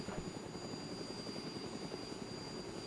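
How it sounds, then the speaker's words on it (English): A helicopter engine in the DayZ Expansion mod game drones steadily with a low rotor throb and a constant whine, fairly faint and with no voices. "to fly a helicopter, leave your engines, you know, warm up enough"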